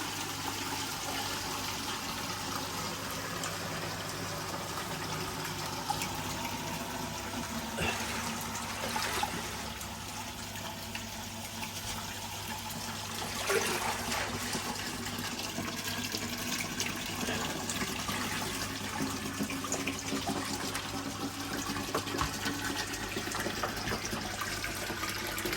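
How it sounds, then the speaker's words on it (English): Water pours steadily into a koi pond filter house, a continuous close rush and trickle that lasts throughout with small surges and gurgles. "Well, that'll flow into there now. Oh, there goes the airlock."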